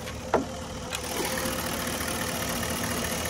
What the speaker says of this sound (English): this is how a healthy engine's supposed to sound.